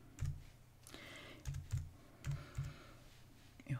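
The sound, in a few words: typing on a computer keyboard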